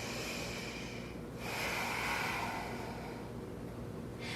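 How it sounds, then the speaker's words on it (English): A slow, deep breath during yoga practice: a long airy inhale followed by a drawn-out exhale, soft and close, with no talking. "Deep inhale and exhale."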